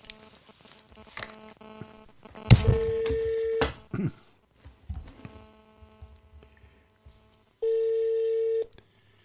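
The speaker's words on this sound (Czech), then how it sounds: "Já zkusím pana Harabína zavolat telefonem." Outgoing telephone call ringback tone: two long, steady beeps several seconds apart, clear and close, with clicks and faint background noise between them.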